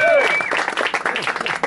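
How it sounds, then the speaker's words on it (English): Audience applause and clapping at a live concert in a record store, a steady crowd clap that runs the whole short stretch, with a brief musical tone at the start. "Please give him a big round of applause."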